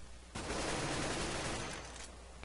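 Sustained automatic rifle fire from a CS:GO match, a loud dense burst of rapid gunshots starting abruptly and rattling on for about two seconds with no talking.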